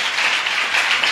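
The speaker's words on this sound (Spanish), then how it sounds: "Dale un aplauso al Señor." A church congregation claps steadily, a dense patter of many hands applauding together.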